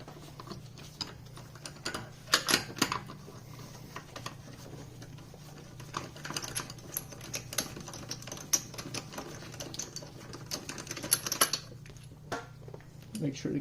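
Bolts on a 2006–2012 Mazda CX-9 front brake caliper being loosened by hand with a ratchet, giving scattered metallic clicks and clinks close by over a low steady hum, with no talk.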